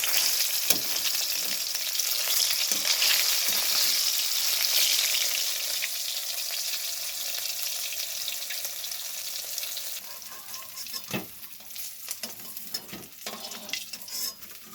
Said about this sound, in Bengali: মাছ ভাজা হয়ে এসছে প্রায়